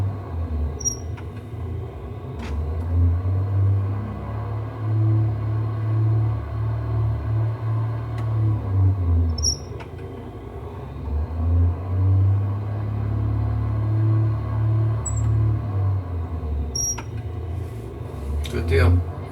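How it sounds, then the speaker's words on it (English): A propeller aircraft engine runs up for a prop check in the X-Plane 12 flight simulator, a steady loud low drone that swells and sags slightly in pitch over the run, with faint clicks above it. "let's go ahead and do our engine run-ups"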